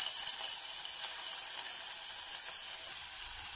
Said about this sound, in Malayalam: അപ്പോൾ അതിലേക്ക് നമുക്കൊന്ന് ഈ പാവയ്ക്ക് ഒന്ന് റോസ്റ്റ് ചെയ്യാം.